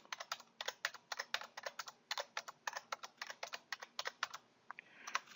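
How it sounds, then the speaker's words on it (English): Typing on a computer keyboard while entering numbers into a table: a quick, irregular run of distinct key clicks, close and crisp, with short pauses between bursts and no talking. "I'm going to go ahead and type 1 through 12 like before."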